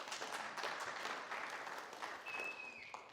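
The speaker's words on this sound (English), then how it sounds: "You can clap for that" Seminar audience applauding, a dense, steady wash of many hands clapping at moderate level throughout, with a brief thin whistle-like tone near the end.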